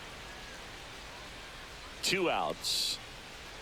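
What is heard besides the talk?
rain falling in MLB The Show 25 baseball video game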